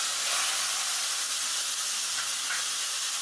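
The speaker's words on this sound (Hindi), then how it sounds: "और इसी तेल में पहले ये जीरा, कालोंजी और सूखा मिर्च इसको डाल दें, इसमें प्याज डाल दें," Onions frying in hot oil with cumin, nigella seeds and dried chili for a Bengali katla fish kalia, a steady loud hiss and sizzle throughout with no talk.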